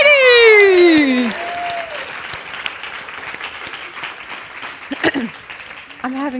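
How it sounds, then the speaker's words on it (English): Audience applause for the women of a client success panel, clapping under a loud voice cheering at first, then continuing with scattered whoops and voices rising over it. "Round of applause for the ladies!"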